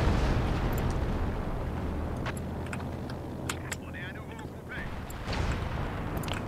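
Artillery shells pounding a flak base in a D-Day strategy video game match, a string of sharp distant blasts and pops over a steady rumbling battlefield bed, with a voice commentating throughout.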